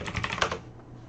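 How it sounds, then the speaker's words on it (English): A quick burst of keystrokes on a computer keyboard types a short search, close and fairly soft, clicking rapidly then trailing off into quiet. "So let's type in Western Isles."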